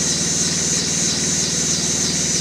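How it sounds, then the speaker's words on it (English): A car engine idles steadily and continuously, a close, even mechanical hum with a fast regular pulse and hiss, with no voices. "the last time the engine that was in here ever started"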